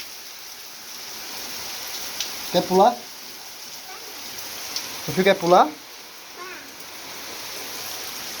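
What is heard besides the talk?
heavy rain falling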